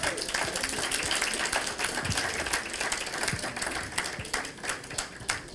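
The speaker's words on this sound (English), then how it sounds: "Let's give them a round of applause as they come." Audience applause at a Ghana property and lifestyle expo in the UK, dense continuous clapping from a crowd with individual sharp claps standing out, steady and fairly close, with a faint murmur of voices underneath.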